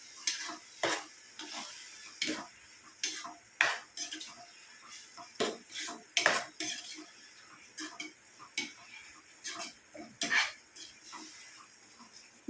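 Turmeric is stirred into a cooking pan with tomatoes, giving a series of sharp spoon scrapes and clacks against the pan in an uneven rhythm over a soft low sizzle, close and fairly loud.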